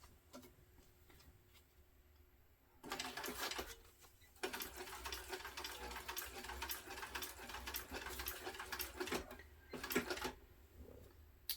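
A sewing machine stitches at a long stitch length in short close bursts, with a quick ticking rhythm and brief pauses between runs.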